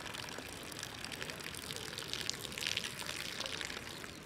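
Water pours steadily out of a Kelly Kettle Ranger Bush Oven in a continuous splashing trickle, close and moderately loud, with no voices.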